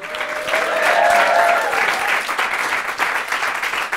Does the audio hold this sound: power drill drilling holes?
no